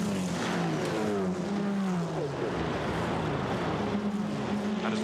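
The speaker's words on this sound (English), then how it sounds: "as the cars now dive up towards the Variante Ascari once more" GT4 race cars drive at Monza, several engines droning at high revs with overlapping pitches that rise and fall as they pass, loud and continuous.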